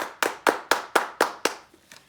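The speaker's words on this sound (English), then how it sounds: "Round of applause for Reagan" Seven slow, even claps from a single pair of hands for a trivia winner, close and crisp, the last two trailing off softer.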